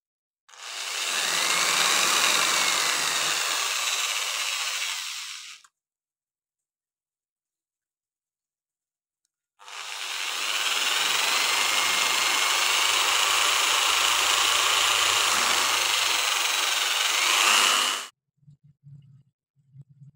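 Two long stretches of steady, loud abrasive whirring from a power sander with fine sandpaper crowning a flute, separated by a pause, with faint knocks at the end.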